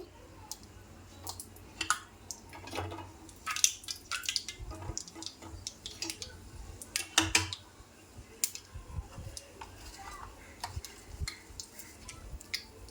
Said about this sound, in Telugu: ఆయిల్ వేడయ్యాక ఆవాలు వేసుకుందామండి కొన్ని ఒక చిన్న స్పూను ఆవాలు